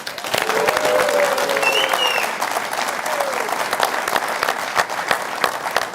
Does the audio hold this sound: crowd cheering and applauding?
yes